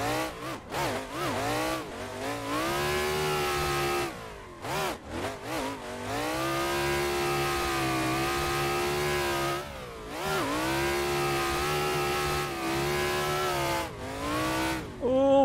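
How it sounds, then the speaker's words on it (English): The engine of a Nissan S15 pro drift car in a racing game screams at high revs in fifth gear during a long burnout on bald rear tires, holding a sustained harsh wail broken by a few brief throttle lifts. "We can just clutch kick fifth gear and just roast it"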